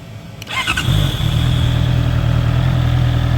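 A 2024 Honda CBR650R with E-Clutch cranks briefly with a clicking starter, then fires and settles into a loud, steady close-up idle.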